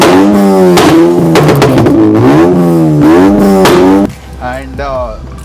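A modified Honda Civic with a Silencer House exhaust and four tips revs in several loud, rising blips close by, then drops to a lower idle burble near the end.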